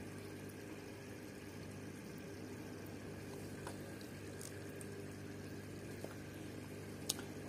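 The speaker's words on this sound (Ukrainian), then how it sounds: "пішли бульки" An aquarium filter on an air hose bubbles steadily in a quiet room, giving a low continuous burble with faint scattered drips and small clicks and no voices.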